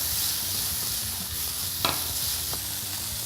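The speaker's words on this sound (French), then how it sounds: "Les oignons. On continue à faire sauter sans coloration." Mushrooms and onions sautéing in a pan give a steady close sizzle and crackle, broken by a sharp utensil scrape near the middle and another fainter knock later; no one speaks.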